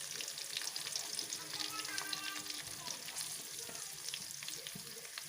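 Capsicum, potato, onion and cabbage fry in a pan for fried rice, a steady, fairly soft crackling sizzle with light stirring throughout.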